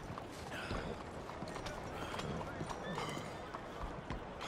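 Horse hooves galloping in Red Dead Redemption, a steady rapid clatter running throughout at a close, even level amid dense game ambience.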